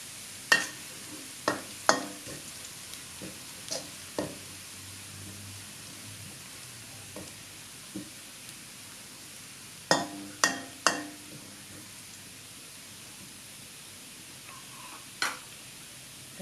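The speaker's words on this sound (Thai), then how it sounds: "ใส่กระเทียมลงไปเจียวไว้ห้องก่อนนะคะ" Garlic fries in hot oil in a pan while being cooked for a Thai spicy pork belly and long bean stir-fry, a faint steady sizzle broken by sharp scraping clacks of a spatula stirring at irregular intervals.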